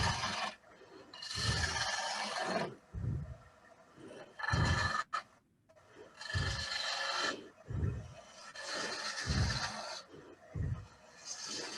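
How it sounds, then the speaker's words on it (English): A wood turning spins on a lathe while being sanded, giving repeated rasping, rubbing bursts that come and go in an uneven rhythm, close and fairly loud, with short pauses between passes. "we'll sand it before we part it off"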